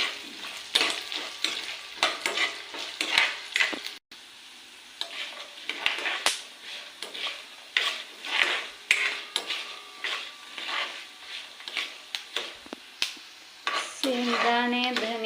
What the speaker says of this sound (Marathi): शेंगदाणे, धनिया, डाळ सगळं भाजून झालेलं आहे.